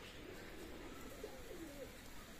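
Teddy pigeons, a Pakistani and Omani fancy breed, coo softly in a few low, rolling calls over a steady background hiss, with no talking.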